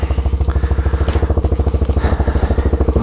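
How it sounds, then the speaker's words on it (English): A Yamaha XT250 motorcycle engine running in the snow, a loud, close, steady thumping single-cylinder beat with an even rhythm and light mechanical clatter. "Let's see if my bike will go in the snow."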